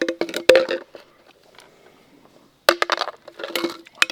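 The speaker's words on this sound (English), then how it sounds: "So let's put the stones in there first." Glass bead stones drop and clatter into a container at a woods campsite: bright clinking and rattling bursts, then a near-silent pause, then another loud tumbling cascade of glassy clicks close to the microphone.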